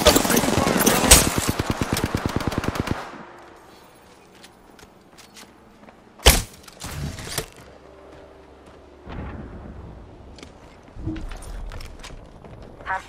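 Rapid automatic gunfire bursts from an Apex Legends match, a dense rattling volley up front followed by sparse single shots and distant bursts, with faint game callouts and effects between them.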